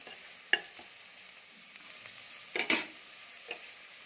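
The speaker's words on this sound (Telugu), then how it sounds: "అల్లం వెల్లుల్లి పేస్ట్ పచ్చివాసన పోయే వరకు ఫ్రై చేయాలి" Ginger garlic paste fries in a pan for mutton curry, with a faint steady sizzle broken by a few sharp stirring scrapes and clatters of a spoon, the loudest cluster near the end.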